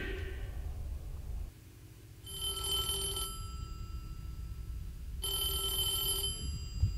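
A telephone rings in the horror game Devotion, two long bursts of electronic bell-like ringing separated by a short pause, loud and close over a low ambient drone, with no talking.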